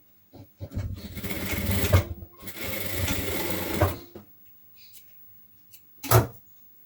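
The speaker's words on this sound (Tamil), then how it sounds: "நம்ம தையல் போட்டுக்கலாம்." A sewing machine joins blouse pieces in two close, steady bursts of rapid stitching, followed by quieter handling clicks and one short final burst.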